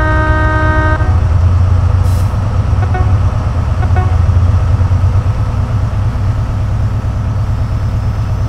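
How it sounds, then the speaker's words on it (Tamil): A loud, steady train horn blast in Train Simulator 2017 with harmonic tones sounds for about a second over a constant heavy engine rumble that continues throughout. "இந்த ட்ரெயினோட ஹார்ன் பார்த்தீங்கன்னா இப்படி தான் இருக்கும்."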